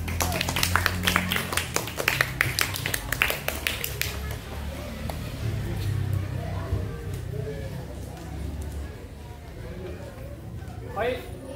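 Class of elementary school pupils clapping their hands during a floor gymnastics lesson, a burst of dense, close applause in the first four seconds, then fading into room murmur and light movement.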